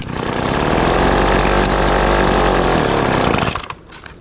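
A Craftsman handheld leaf blower with a freshly repaired carburetor diaphragm runs at a loud, steady buzzing high idle close by, then cuts out abruptly near the end.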